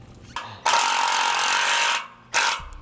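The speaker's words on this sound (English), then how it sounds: "we'll secure it in place with the self-tapping screw." A power driver sinks a self-tapping screw into a trailer frame during installation of a HydraStar marine electric-over-hydraulic brake actuator: a short whine, then a sustained grinding burst, a pause, and one more quick burst, close up.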